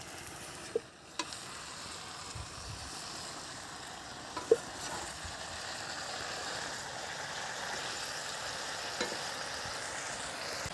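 Water added to a frying spice paste in a pan while cooking mourola fish curry, giving a steady, even sizzle with a few sharp clinks of a utensil early on.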